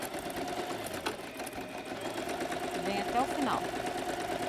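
A sewing machine steadily stitches bias binding onto the edge of a transparent pouch, a continuous mechanical whir running under a voice speaking.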